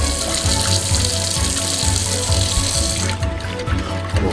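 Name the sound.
hot water poured into puppy formula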